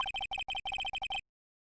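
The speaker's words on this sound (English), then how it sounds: "I heard a phone ring just now, one of those newfangled ringtones." A modern mobile phone ringtone plays a rapid, repeating electronic beeping melody in short, even bursts for about a second, then stops abruptly into silence.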